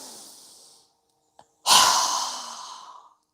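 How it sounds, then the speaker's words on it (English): A single strong open-mouthed exhale during a yoga breathing exercise, loud and breathy and fading over about a second and a half, preceded by a softer breath and a brief quiet pause. "exhaling with a strong breath with our mouth open wide"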